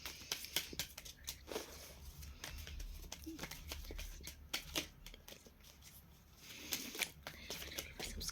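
Playing cards shuffled by hand in quiet, soft riffling bursts and crisp flicks repeating irregularly, close and fairly faint, with no talking over them.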